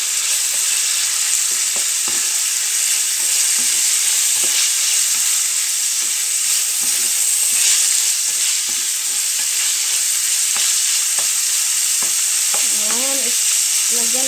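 Pancit canton noodles stir-fried in a pan give a steady, close sizzle with repeated scraping and stirring strokes throughout, no voices over it.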